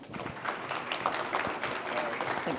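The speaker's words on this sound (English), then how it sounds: "Let's give him a round of applause" A business conference audience gives a round of applause, a sustained wash of clapping from many hands that holds steady throughout, with some voices mixed in.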